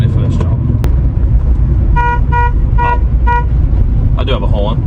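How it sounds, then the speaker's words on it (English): Close-up horn toots from a 1.8-litre 1999–2005 Mazda MX-5 NB sound as several short beeps, one then a quick series, over the idling engine's constant rumble. "Oh, I do have a horn."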